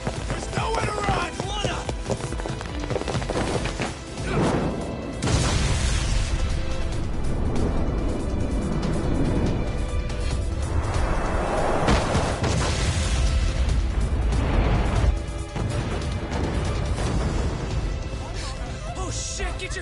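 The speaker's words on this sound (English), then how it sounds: "This ship just exploded!" A ship explodes in the video game Lost Judgment: a heavy booming burst hits early, then a dense roar of crashing debris and rumble follows, loud and continuous, with voices speaking through it.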